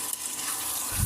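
Duck curry with potatoes sizzles and fries in a pan while being stirred, a close, soft hissing crackle with a low scrape at the end.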